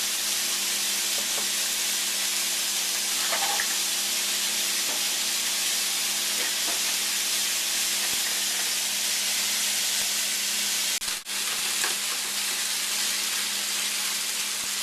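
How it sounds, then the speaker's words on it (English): Chicken pieces seasoned with garlic salt browning in a pan give off a steady, close sizzle and hiss that runs unbroken throughout, with a few faint clicks, no one talking. "You're going to brown your meat for roughly about 3 to 5 minutes or until it's no longer pink."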